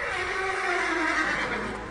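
A horse whinnying sound effect plays within a Portuguese Bible audio reading, one sustained, loud neigh lasting about two seconds with no voice over it.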